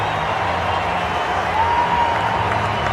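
A cricket crowd at the Bullring applauds AB de Villiers' 14th ODI century against Pakistan in 2013, a steady, dense wash of clapping and cheering that holds level throughout.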